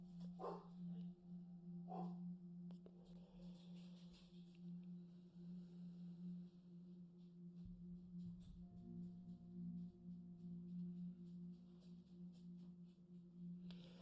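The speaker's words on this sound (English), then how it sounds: "You may hear dogs in the background." Dogs bark faintly in the background, a few distant woofs and yips at the start and scattered later, over a steady low hum, with no talking.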